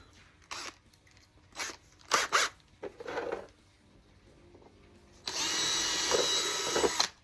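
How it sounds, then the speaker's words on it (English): A power drill fitted with a number 3 bit runs in a few short bursts on a cigar box guitar bridge, then one longer steady whine, each burst close and fairly loud. "now you're going to use a number 3 drill bit"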